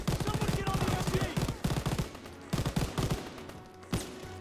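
Heavy automatic gunfire in a Call of Duty WWII battle, dense rapid bursts of machine-gun and rifle fire overlapping into a loud fusillade, pausing briefly before more bursts and a final sharp shot.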